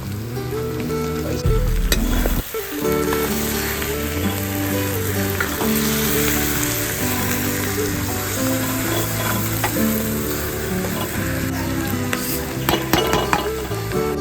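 Wild mushrooms roast in a pan with crushed masala and pepper, sizzling steadily and loudly while being stirred, with tonal background sounds under the frying.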